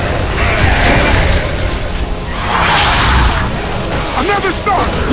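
A grenade explodes in Gears of War 3 in a loud, rumbling burst amid ongoing combat noise, followed by whooshing debris and scattered mechanical clatter, with voices shouting over the fight.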